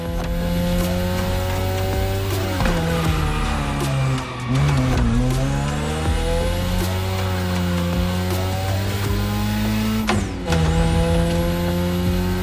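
Racing car in The Crew driving a mountain road, engine revving and dropping as brake and gas are balanced through turns, with gear shifts and tire squeal, loud and continuous with no talk.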